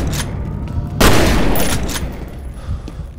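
Gunfire in the shooter game F.E.A.R.: a loud, sharp burst of shots erupts about a second in and rings out into a decaying rumble, with lighter shots and clatter before and after.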